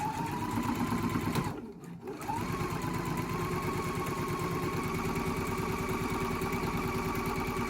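A sewing machine stitches a homemade fabric wine bag, whirring with a rapid steady needle rhythm close by, briefly slowing and pausing before starting up again and running evenly.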